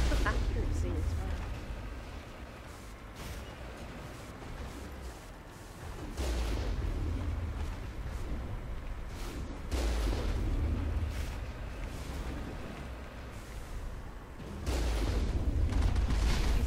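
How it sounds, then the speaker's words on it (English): Cannon fire from the Mako vehicle during a battle at a Geth base in the Armstrong Nebula in Mass Effect: heavy booming blasts land at irregular intervals over a rumbling game soundscape, loud and close. "I'm shooting right at that thing and it's just not registering"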